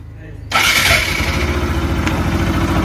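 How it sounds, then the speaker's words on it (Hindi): A Bajaj Pulsar RS 200 motorcycle, running on nearly empty fuel, cranks and fires after half a second of quiet, then settles into a loud, steady idle with a dense, throbbing rumble. "अब गाइस बाइक स्टार्ट करते हैं"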